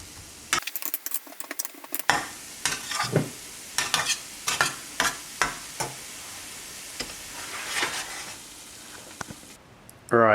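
Gozleme cooks in a pan with a steady sizzle, broken by repeated scraping and stirring clicks from a utensil against the pan, close up with no talking.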